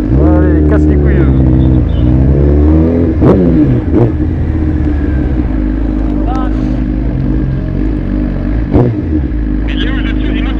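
A remapped 2020 Suzuki GSX-R 1000 R of 212 hp roars loudly and steadily close by, its engine pitch swelling and dropping as the rider accelerates, with people talking over it.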